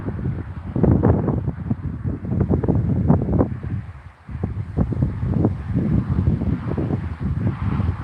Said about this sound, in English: this wind's coming right up over this hill